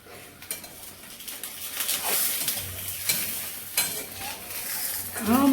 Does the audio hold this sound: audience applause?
no